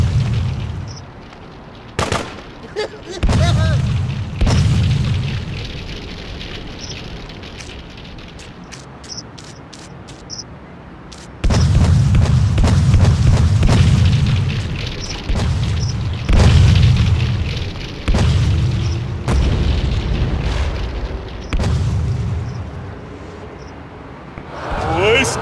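Rocket launcher explosions in GTA2 multiplayer, heavy low booms landing one after another, some lingering in rumbling blasts, with sharp gunfire cracks scattered between them.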